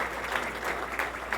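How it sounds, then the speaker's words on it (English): Audience applause at a gathering honoring an Ohio State student, a steady wash of light clapping with a few louder peaks, moderately distant and fairly soft throughout. "Thank you for giving her a round of applause and recognizing her."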